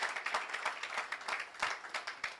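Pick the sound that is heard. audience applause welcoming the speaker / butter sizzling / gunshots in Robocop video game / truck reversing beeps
audience applause welcoming the speaker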